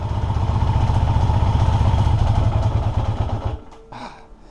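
A 1982 Yamaha XJ650 motorcycle engine, on its first start after sitting and struggling to stay running on choke, idles with a loud, rough, throbbing run up close before it sputters and dies away.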